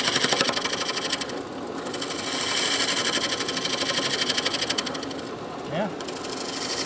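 Wood spinning on a lathe as a tool cuts curly shavings with the oncoming grain, giving a continuous close rasping whir with a slight pulsing texture and a brief voice near the end.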